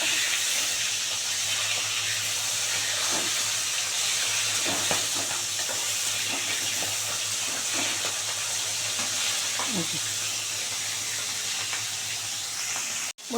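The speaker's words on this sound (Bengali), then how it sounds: "3 পিস করে মাছ ভেজে নেবো।" Pieces of fish frying in hot oil, three at a time, give a steady, close sizzle and hiss that runs on evenly, with a few soft stirring and turning sounds and no talking.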